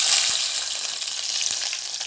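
Green chilies frying in hot oil as a tempering: a loud, close, continuous hissing sizzle fills the whole clip, with a couple of faint soft taps underneath.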